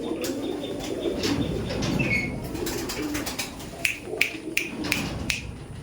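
Giribaj pigeons coo softly in a loft, with scattered sharp clicks and a few wing flutters over a low background hum.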